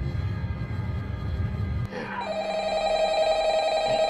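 A telephone rings in a Minecraft game, a steady electronic ringing tone that starts abruptly partway through and continues clearly over faint background hum.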